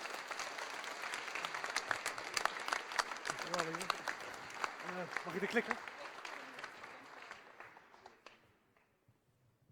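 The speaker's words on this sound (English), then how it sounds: "So give a big hand and a big applause for Bas van der Steggen." An audience at a design presentation applauds the presenter with steady crowd clapping that tapers off and stops, with a few brief voices speaking under it.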